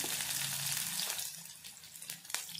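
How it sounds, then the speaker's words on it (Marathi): Sliced onion hits a hot pan, raising a soft frying hiss that is fuller at first and then thins out, with a faint tap near the end. "इथे आपल्याला स्लाइस केलेला कांदा टाकायचा आहे."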